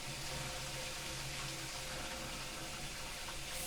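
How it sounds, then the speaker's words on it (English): A washing machine drains water in a steady, even rush and gurgle that carries on unchanged throughout, heard from a nearby room with no talking. "It's the washing machine draining."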